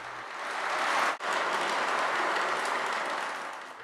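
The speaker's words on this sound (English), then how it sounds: "test how noisy running trains is on plywood without a sound buffer" Model trains running on a small plywood layout with no sound-dampening underlay, a steady broadband rumble and rattle that holds for several seconds with one brief dropout near the start.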